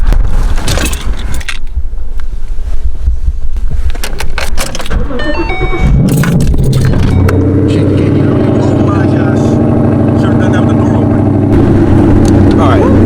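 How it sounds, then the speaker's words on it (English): A car engine cranks and catches, then settles into a steady idle that runs for several seconds. It comes after earlier handling noises and jingling, with the engine loud and close. "This car's gonna take a minute to warm up, so let's get it started."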